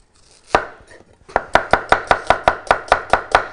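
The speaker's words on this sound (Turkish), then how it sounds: "Soğanları yine doğruyorum." Onions chopped with a knife on a board: a few uneven cuts, then a fast, even run of about a dozen sharp, close knocks, with no talking.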